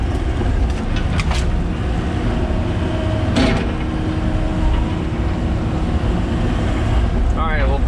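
A heavy excavator-type machine with side boom and blade runs close by on a homestead site, a loud unbroken engine rumble with brief metallic squeaks and clanks over it.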